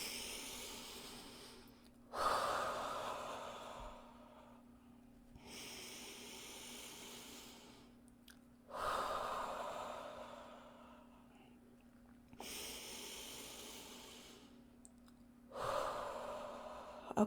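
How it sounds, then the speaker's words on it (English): Three slow, deep breaths, each a soft inhale followed by a long airy exhale, close and quiet over a faint steady hum, with no talking. "Let's take some breaths."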